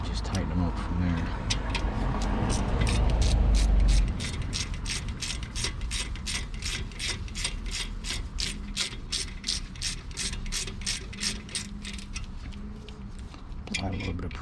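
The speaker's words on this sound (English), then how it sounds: "Apply a little bit of pressure to the back of the ratchet, so that way it will make that slide pin move into place." A hand ratchet tightens the front brake caliper slide pins on a Ford Escape, its rapid even clicking repeating close and clear for many seconds after a brief louder mechanical rumble at the start.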